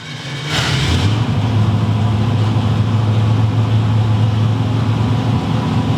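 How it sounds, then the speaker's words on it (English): A small-block Ford V8 car engine idling at a steady, elevated rumble, loud and continuous with a low droning hum and no talking. "It's still idling high."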